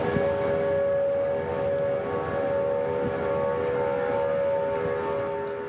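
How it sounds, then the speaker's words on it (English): Outdoor civil defense tornado warning sirens wail steadily and loudly during a severe storm outbreak in the Memphis area, a sustained tonal drone with no talk over it. "the sirens you heard tonight might just be the first round"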